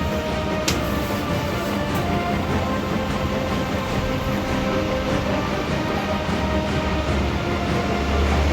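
Freight train carrying cement in an Indian train simulation game, a steady loud rumble of wheels and carriages rolling continuously, with no voices present.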